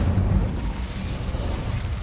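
Incendio fire spell cast in Hogwarts Legacy, a low rumbling whoosh of flame that starts strong and settles into a steady roar, close and loud.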